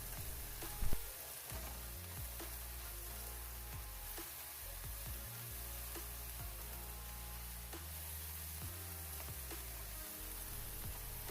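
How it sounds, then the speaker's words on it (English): Sliced mushrooms, green onions and chopped garlic sauté in a pan with a faint, steady sizzle and light crackle, alone, under a low background hum and an occasional soft tap. "I'm going to toss in some sliced green onions and some chopped garlic. And I'm going to let that saute for just a few more minutes."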